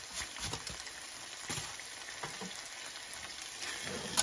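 Quiet sizzling and scraping as arvi bhujia, a dry colocasia stir-fry with chopped green chillies, is stirred and mixed in a pan, with soft intermittent clinks and spatula strokes over a low frying hiss.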